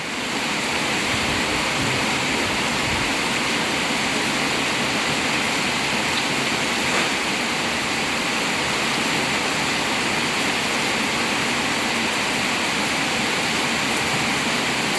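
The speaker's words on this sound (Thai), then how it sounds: "รถลูกค้านะคะจอดตากฝน" Heavy rain pours down steadily on a parked car outdoors, a dense and constant hiss with no breaks for the whole stretch.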